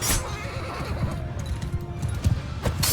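A horse neighs amid a cavalry battle in Mount & Blade II Bannerlord, a loud whinny over galloping clip-clop hooves and thudding combat noise.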